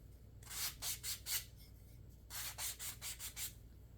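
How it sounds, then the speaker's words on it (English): Painted wooden riser edges being distressed by hand sanding: two bursts of quick back-and-forth rubbing strokes, close and fairly soft, with no talking. "I'm just distressing those edges."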